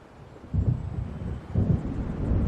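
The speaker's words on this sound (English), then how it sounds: "It seems there's a storm coming." Low rolling thunder from a storm in the Alan Wake video game, two deep rumbles building a second apart over a steady dark background roar, fairly loud and with no voices.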